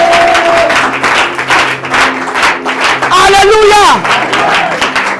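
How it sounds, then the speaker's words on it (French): A church congregation at a deliverance service claps and cheers in acclaim of the Lord, loud applause filling the whole stretch as a voice shouts and sings over it. "Au nom de Jésus, acclame le Seigneur pour cette sœur."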